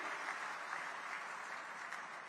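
Sustained applause from an outdoor political rally crowd in Sirsa, Haryana, a steady dense clapping wash held at an even level throughout with no voices over it.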